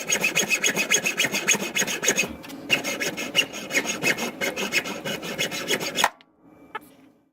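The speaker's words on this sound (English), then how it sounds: "So I'm gonna cut it about right there." Hand sawing through a wooden pen blank: steady rhythmic rasping strokes, close and loud, with one brief pause, then an abrupt stop and a few faint handling sounds.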